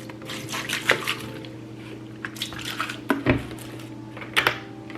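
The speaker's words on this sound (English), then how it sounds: "put them right in the bowl and just wash them off" Oxtails being washed with water in a bowl: wet squishing, splashing and dripping with intermittent clinks of the bowl, sounding close and moderately loud over a steady low hum, with no talking.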